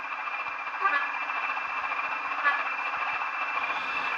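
Horn from a second Bachmann Class 20 model locomotive with DCC sound, a sustained steady tone lasting around four seconds with faint clicking and mechanical ticks underneath, thin and small-speaker quality.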